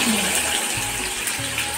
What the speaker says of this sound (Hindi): और अब इसमें हम आंवले डाल रहे हैं।